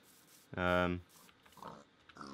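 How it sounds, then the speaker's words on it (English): One loud, nasal pig grunt from a video game sounds up close, followed by a few softer snorts and snuffles. "I can hear pigs."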